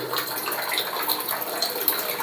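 Water runs steadily from a bathroom tap under repair, a continuous close rush and splash with no pauses and no voices.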